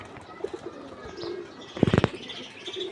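Domestic pigeons during a pigeon-flying contest: a quick burst of wing flaps stands out midway, set against a soft bed of faint cooing and outdoor ambience with no talking.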